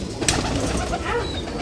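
A Rampuri pigeon held up and released, with a soft flutter of wings and faint cooing over a dull background hum; one brief burst of flapping near the start.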